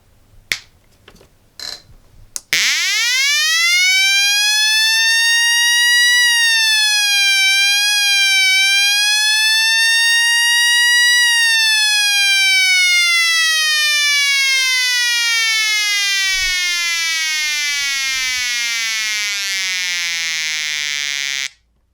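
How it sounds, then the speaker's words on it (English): A homemade two-transistor siren circuit built around an NPN BC337 and run on 7 volts, switched on with a push button: a loud electronic wail rises steeply, wobbles, climbs further, then slides slowly down over about twenty seconds, with brief clicks before it starts. "when you hold the push button, the siren goes up with the tone, and when you release, the tone goes down"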